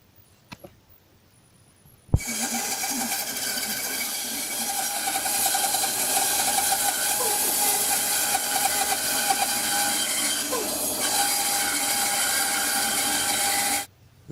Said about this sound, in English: I'm just marking out a circle on there to cut on the bandsaw